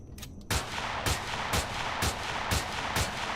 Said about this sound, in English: let's shoot up the core here real quick